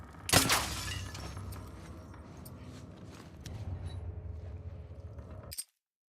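A glass bottle shatters with a sharp, bright crash in The Last of Us Part II, followed by a low rumbling game ambience and a second brief crack near the end before sudden silence.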